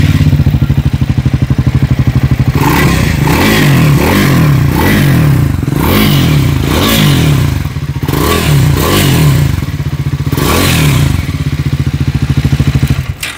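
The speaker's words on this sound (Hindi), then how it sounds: "अब चलो जल्दी से इस गाड़ी के जो एग्जॉस्ट नोट है वो मैं आपको सुना देता हूँ" A 2024 Triumph Scrambler 400 X motorcycle engine runs loud and close, its exhaust note rising and falling through a series of rhythmic revs over a throbbing idle.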